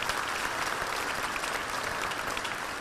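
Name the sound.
audience applause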